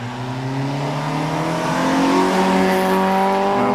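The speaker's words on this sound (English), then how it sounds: "away goes Malcolm Horn in the Peugeot 206" A Peugeot 206 Cup rally car pulls away on a hillclimb, its engine rising loudly through the revs in a steady climbing drone, strong and close, with faint tyre noise and no voices.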